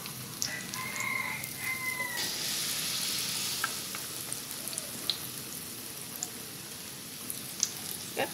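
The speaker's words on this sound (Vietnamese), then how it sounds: "củ cải đỏ mình cũng chiên y giống vậy luôn nha các bạn" Red radish pieces frying in hot oil in a pan, a steady hissing sizzle throughout with a few small pops and crackles.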